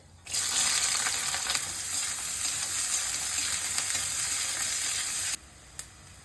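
Chopped onion hitting hot oil already fried with whole cumin and garam masala for Bengali chicken kosha, a loud, steady sizzle that starts abruptly and cuts off near the end, with no talk.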